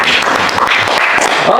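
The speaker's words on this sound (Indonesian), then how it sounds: "terima kasih, tepuk tangan." Brief round of audience clapping after a spoken address, steady and fairly loud with some voices mixed in.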